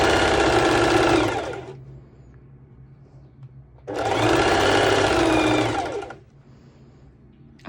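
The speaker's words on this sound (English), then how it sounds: "this way I wanted to show you how to do it with your normal sewing machine" A domestic sewing machine runs zigzag top stitching along a swim skort seam in two loud bursts of rapid whirring needle chatter, separated by a short quiet pause.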